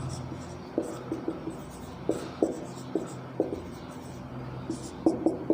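Pen or marker writing on a board during a physics lesson on capacitance, a series of short scratchy strokes in irregular bursts, close and fairly clear with no talking.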